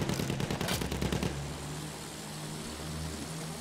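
Gunfire in the World War I shooter Battlefield 1 on the Sinai Desert map, a dense burst of rapid loud shots for over a second, then a steady engine-like drone and battle rumble.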